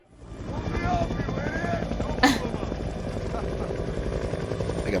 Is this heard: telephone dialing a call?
no